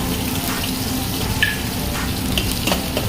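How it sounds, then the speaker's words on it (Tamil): Curry leaves dropped into hot oil with ginger, garlic and green chilli, a continuous dense sizzle and crackle with a few brief pops, close and fairly loud, no talking. "எண்ணெய் சூடாயிடுச்சு. இப்படி போட்டுக்கலாம். 2 கருவேப்பிலை போட்டுக்கலாம்."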